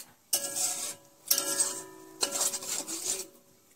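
Bhola fish and pointed gourd being stirred in a pan, three separate bursts of scraping and rubbing strokes with a faint sizzle, close and fairly quiet with short pauses between.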